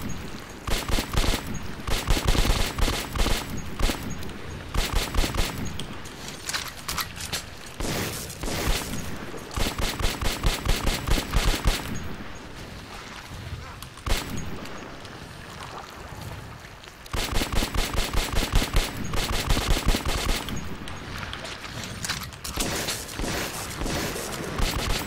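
Weapons firing in Metro 2033, loud bursts of rapid automatic gunfire in long rattling volleys with brief gaps between them, dominating the whole stretch.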